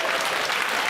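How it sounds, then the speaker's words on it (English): A studio audience claps steadily for a chef introducing a superfood dessert recipe, a brief, even wash of many hands at moderate level with no pause. "Give him a very round of applause."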